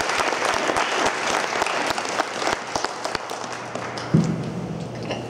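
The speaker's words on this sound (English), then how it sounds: "I would like to applaud those up on the stage for making this happen." Sustained applause from a conference audience for the people on stage, steady dense clapping with a few sharper claps standing out, heard alone without speech.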